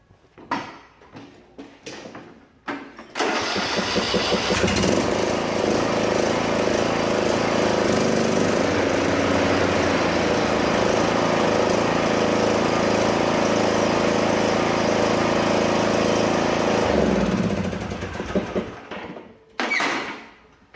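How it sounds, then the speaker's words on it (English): A John Deere riding lawn mower starts up with its blade engaged and runs as a loud, steady close-up engine drone for about fourteen seconds before cutting off, with a few clunks before and after. "I'm going to go ahead and fire this up to make sure the blade is engaged, make sure the belt is on right"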